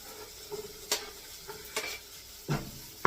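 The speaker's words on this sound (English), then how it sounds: "I'm going to stir that up just a little bit." Carrots, celery, green beans and other vegetables for cabbage soup sauté in a pan with a soft, steady sizzle, while a spoon stirs them in several distinct scraping strokes. The sound is close and quiet, with no talking.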